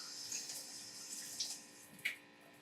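Tap water runs steadily into a sink as fresh produce is rinsed for a raw vegan meal, a soft continuous splash with a few brighter spatters near the end.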